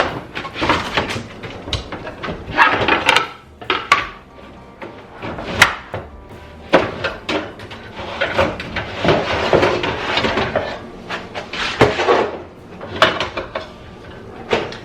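Metal kitchen pans, including cupcake and brownie pans, clatter and bang as they are pulled out and sorted in a home kitchen, with repeated loud, close knocks and scrapes in uneven bursts and no talking.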